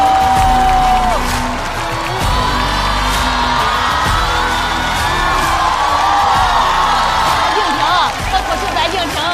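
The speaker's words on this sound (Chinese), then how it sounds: "最后，让我们有请本场擂台赛首发小队，掌声欢迎贾浩、韩大狗、阿赛。" A stand-up comedy show audience cheers and whoops loudly throughout as a comedy team is introduced, with music playing underneath.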